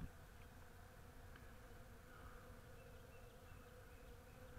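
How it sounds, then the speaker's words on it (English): Honey bees buzz around a swarm trap outdoors, a faint continuous hum of many insects with a few closer passes. "They sure are getting a lot of bees in here."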